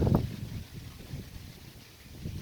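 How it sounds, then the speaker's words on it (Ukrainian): Steady low wind noise buffets the microphone, rumbling unevenly with a few stronger gusts. "Вітер дуже сильний дує."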